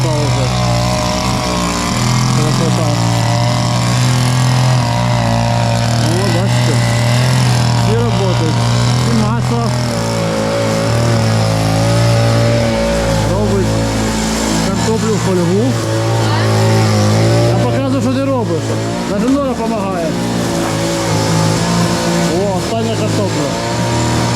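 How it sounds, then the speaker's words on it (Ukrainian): A small lawn mower engine drones steadily throughout at a constant pitch, with people chatting over it. "Міша косить."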